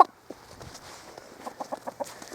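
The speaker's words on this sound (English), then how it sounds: "Messing with chickens today" Chickens clucking in a backyard coop, a series of short, soft clucks that grow busier toward the end against faint background noise.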